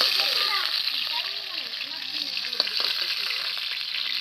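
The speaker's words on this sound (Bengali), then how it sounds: "মাছ ভাজাটা হালকা করে ভেজেছি, অতটা কড়া করে ভাজিনি" Fish fries lightly in a pan with a steady, bright sizzle and crackle throughout, and a faint voice murmurs underneath.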